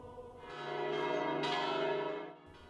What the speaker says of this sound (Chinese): 回荡的钟声欢迎前来参加清晨弥撒的敬拜者